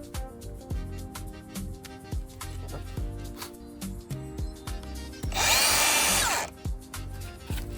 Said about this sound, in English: we're cutting through a porcelain tile wall, we're using this diamond tile cutting bit